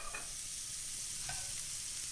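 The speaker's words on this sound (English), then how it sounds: "Just going to get the patties on, nice and sizzling and hot." Burger patties sizzle steadily in a hot pan, a constant crackling hiss with a couple of soft clinks from stirring or turning.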